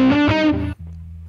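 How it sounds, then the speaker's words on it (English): An electric guitar played through a distortion effect rings out with a loud, sustained chord, then drops to a quieter buzzing tone as the note is damped. "And let's get back to distortion."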